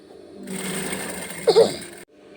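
A sewing machine stitches a girl's dress, its needle chattering rapidly and steadily at close range for about a second and a half, with a brief louder clack near the end before it stops.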